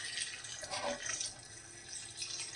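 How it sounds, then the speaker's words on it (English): Filtered water pouring steadily into a pot for a turkey meat stew, a close, continuous splashing wash with no talking. "Filter water up to the top."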